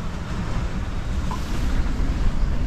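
Steady rush of wind and water from a sailboat on a beam reach in 18-knot wind off New Zealand, waves sloshing against the hull under constant broadband wind noise, no voices.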